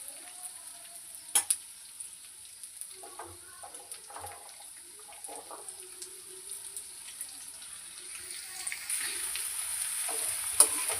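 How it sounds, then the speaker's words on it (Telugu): Vegetables and spices for a potato masala curry fry in a pan with a steady, fairly quiet sizzle, broken by a few clinks and stirring scrapes and growing slightly louder toward the end. "ఇవి కూడా కొద్దిసేపు ఫ్రై చేసుకుందాం"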